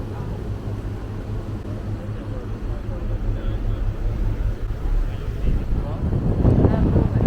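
Strong wind buffets the microphone of a DJI Pocket 2 gimbal camera on a sunny city day, a steady low rumble that swells louder toward the end.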